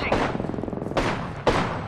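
Gunfire in Apex Legends: three loud, sharp bursts roughly half a second apart, each followed by rapid rattling shots, close and dominant, with no talk over them.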